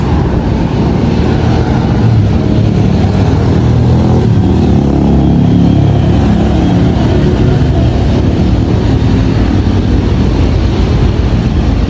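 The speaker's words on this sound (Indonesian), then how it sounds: "Saya lalu nih motor banyak" Heavy, constant engine roar from many motorcycles passing close by fills a busy market street in Pekanbaru, Riau, as a loud unbroken wash of motor noise.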